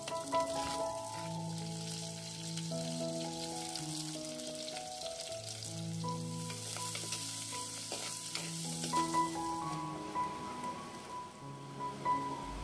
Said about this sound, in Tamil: வெங்காயம் சேர்த்து வதக்கி கொள்கிறேன்